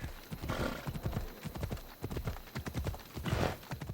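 Horse hooves clip-clop in a quick, even rhythm on a road in Assassin's Creed Odyssey, faint but distinct, continuing steadily without talk.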